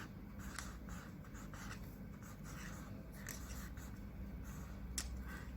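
A pen scratches across the paper of a math journal in soft, quick strokes, faint and close, with brief louder scrapes scattered through a quiet room.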